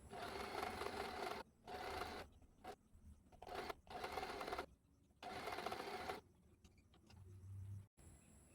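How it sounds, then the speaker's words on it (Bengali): A sewing machine runs gathering stitches on fabric for an Alia cut top. It whirs softly in several bursts of one to two seconds, with short pauses between them. "একইভাবে বটমের দ্বিতীয় পার্টটাও মেশিনের সাহায্যে গেদার্স করে নিলাম।"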